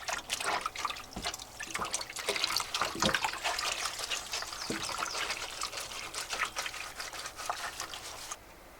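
Clothes are worked in water aboard a narrowboat, a close sequence of trickling, dripping and splashing sounds with irregular sloshes that ends abruptly near the close.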